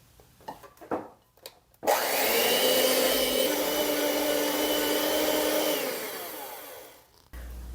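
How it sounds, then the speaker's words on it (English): An electric hand mixer creams butter and sugar in a bowl, a loud steady motor whir lasting about five seconds before winding down, preceded by a few soft knocks. "I'm going to mix this together with an electric mixer until it's light and fluffy."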